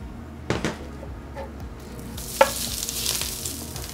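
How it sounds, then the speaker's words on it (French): Spring onions grilling on a hot plancha, a soft crackling sizzle with a few clicks and scraping touches, fairly quiet and close. "les cébettes, là, je vais juste les griller à la plancha"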